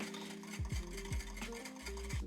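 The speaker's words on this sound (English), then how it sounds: "our cream of rice has been whisked together" A whisk beats cream of rice batter in a bowl, with quick rhythmic scraping strokes and repeated clinks against the bowl, close and steady with no talk.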